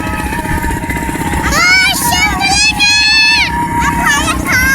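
A Honda motorcycle idles and revs with a steady buzzing engine drone as a learner rides, while people talk and call out over it throughout.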